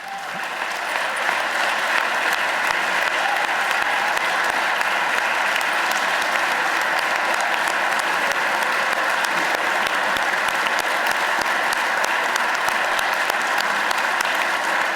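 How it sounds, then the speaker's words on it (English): A large audience applauds during a governor's state budget address, sustained, even clapping that holds strongly for the full stretch with little variation and no speech over it. "if applause could vote, we'd have this whole thing done already"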